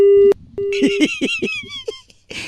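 Two electronic tones from a phone call being hung up, a short beep then a longer one, followed by a burst of talk and a final noisy blip.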